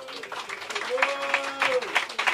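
A concert audience at a pop show applauds in a steady patter of clapping, while a sustained voice rises over it in a sung or drawn-out exclamation.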